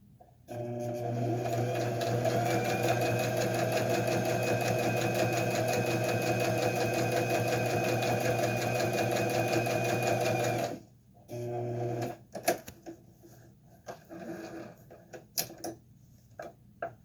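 A sewing machine stitching strips for a string quilt, running in one long steady whirring burst, then stopping and giving way to short clicks and handling sounds.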